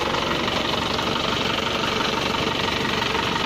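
A car engine idles gently while its radiator is flushed, producing a steady low rumble with a fine, even vibration and no change in pace. The sound is close and constant, with no one talking.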